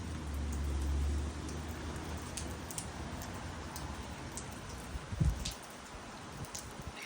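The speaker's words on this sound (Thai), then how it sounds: "ฝนตกมาตั้งแต่ตอน 7 โมงเช้าเนาะอันนี้8 โมงกว่าค่ะ" Morning rain falls over Auckland city streets in a steady, soft hiss, with scattered drips and a brief low rumble near the start.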